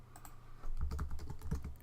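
A short, quiet burst of keystrokes on a computer keyboard as a search is typed, close and alone.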